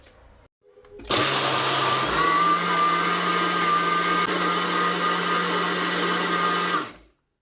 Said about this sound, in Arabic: وهضربهم بقى حبايبي في الخلاط